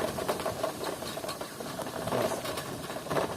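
A FADA IDEA electric bicycle's motor under throttle on a rough dirt road, giving a steady close whirring hum with rattling and jolting from the bumpy ride, continuous throughout and with no talk.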